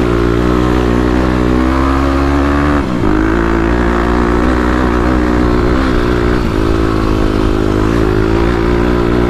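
A 35HP Kawasaki KLX351 dirt bike runs hard on sand dunes, its loud, close engine droning steadily, dipping briefly near the three-second mark before pulling strong again.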